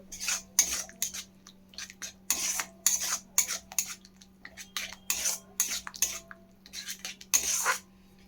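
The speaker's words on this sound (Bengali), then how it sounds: "এই দুটো দিয়ে ভালো করে আবার একটু কষিয়ে নেব মশলাটা মানে গ্রেভিটা একটু এরকম করে কষিয়ে নেব" Chili chicken gravy is stirred and sautéed in a pan, with repeated scraping strokes of a metal utensil against the pan in an uneven rhythm over a low steady hum.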